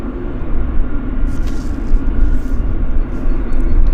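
An Air India airliner at Vancouver Airport gives off a steady, loud, deep jet rumble that stays continuous throughout, with no talk over it.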